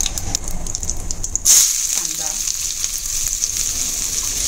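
Mustard and cumin seeds crackle and sizzle in hot oil on a gas stove for kadi rice and moong usal, a steady close spatter that swells suddenly partway through and keeps popping to the end.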